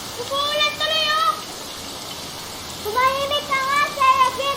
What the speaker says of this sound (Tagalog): Umuulan tuloy, oh!